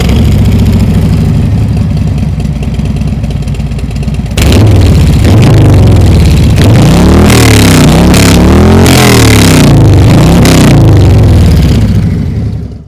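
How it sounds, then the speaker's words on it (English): A motorcycle fitted with Reinhardt slip-on exhausts fires up from cold. After a rough, loud idle it breaks into several close, aggressive revs that swell and fall, and it keeps running throughout. "that was the cold start of my bike with the Reinhardt slip-ons"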